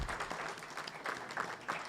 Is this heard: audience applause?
yes